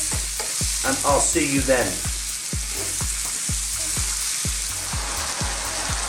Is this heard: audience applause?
no